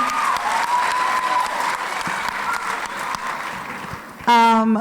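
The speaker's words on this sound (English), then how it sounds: "Y'all better start clapping." An audience at an International Day of the Girl event breaks into sustained applause, a broad steady clatter of many hands that runs for several seconds before a voice cuts in near the end.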